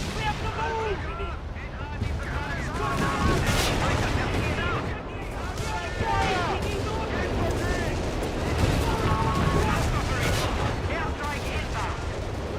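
Artillery fire in a battlefield video game, a dense, continuous rumble of blasts and explosions with chirping effects over it, loud throughout, with voices speaking amid the barrage.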